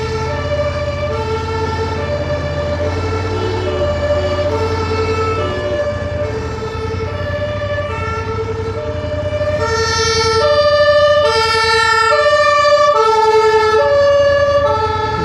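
Ambulance sirens wailing along a rainy Berlin street, a loud, steady two-tone siren cycling over traffic rumble that grows louder and brighter as the vehicles draw near.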